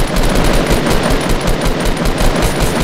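Loud, close gunfire from a shootout in the video game Fortnite: a rapid continuous stream of shots packed tightly together for a few seconds, with no talking.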